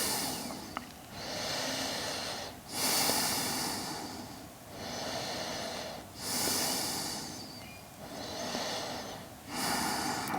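Deep, slow breaths during a yoga stretch, each a long airy inhale or exhale heard close and clear, about four cycles in a steady rhythm with no voice over them.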